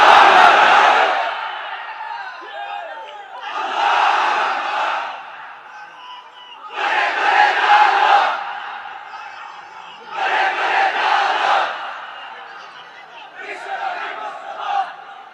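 A large crowd at an Islamic religious gathering shouts the takbir together in five loud, separate bursts, each lasting a couple of seconds with short pauses between them.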